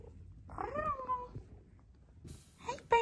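A cat on a farm meows twice, a rising then falling call followed by a shorter, sharper meow near the end, close and clear against a quiet indoor background.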